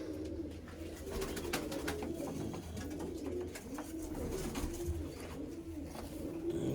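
Pigeons coo steadily in low, rolling murmurs while feeding on scattered grain, with soft scattered pecking and fluttering noises throughout.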